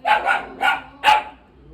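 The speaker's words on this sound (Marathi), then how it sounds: "नाव काय? कुत्रा क्रिश" A dog at a friend's home barks four times in quick, close succession, with the last bark the loudest, followed by a quieter pause.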